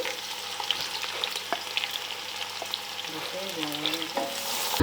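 Onions frying in a pan with garam masala, stirred with a utensil: a steady close sizzle under repeated scraping strokes, with no talk.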